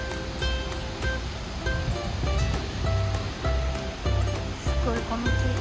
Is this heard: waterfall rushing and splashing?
yes